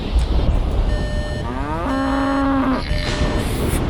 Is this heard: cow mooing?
yes